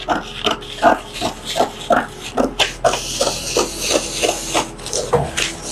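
Scissors cut along the armhole of a blouse pattern in a run of short, rasping snips, about two per second, close and distinct with brief pauses between cuts.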